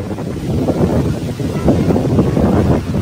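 Strong wind roars steadily into the microphone on a mountain in the Philippine countryside, a constant buffeting rumble with gusty surges throughout.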